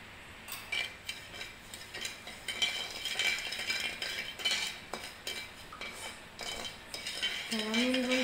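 A spoon stirs sugar and water in a pan for caramel, scraping and clinking against the metal in a quick, uneven rhythm, close and fairly quiet with no talking.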